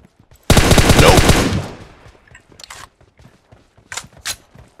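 Automatic gunfire in the PUBG Mobile video game, a loud sustained burst of rapid shots followed by scattered quieter clicks and a couple of sharp sounds.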